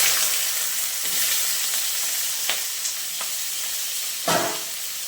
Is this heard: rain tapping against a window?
no